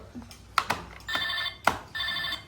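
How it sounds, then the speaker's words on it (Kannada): An electronic phone ringtone chirps in two repeated bursts of warbling tones, fairly close and clear, with a few sharp knocks and handling sounds indoors. "ಫೋನ್ ಬರ್ತೈತೆ"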